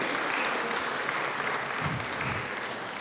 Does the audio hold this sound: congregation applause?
yes